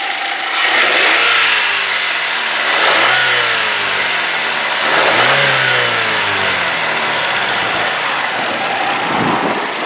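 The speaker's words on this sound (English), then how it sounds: "Now I'll just be quiet and let you guys listen to it as I rev it up." A 2003 Saturn Ion 2 with a 2.2 liter four-cylinder engine revs repeatedly from idle, loud and close, climbing and falling in three or four distinct pulls with no talking.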